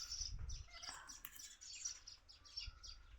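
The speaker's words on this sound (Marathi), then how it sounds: "बाबळीत त्याच्यावरती चिमण्या बसल्यात" Sparrows perched in a babul tree chirp faintly in quick, scattered bursts, heard at a distance under soft background noise.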